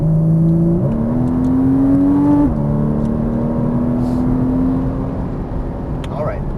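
A Porsche Cayman S accelerates on a race track, its engine note rising through two gear changes in a loud, close in-cabin drone.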